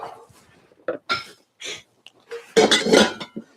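A pouring kettle is handled in an outdoor camp kitchen, with a series of scattered metallic clinks, taps and knocks, separated by short silences and ending in a louder cluster of clatter.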